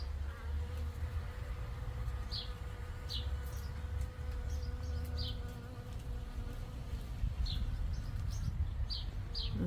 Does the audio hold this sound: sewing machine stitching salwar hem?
no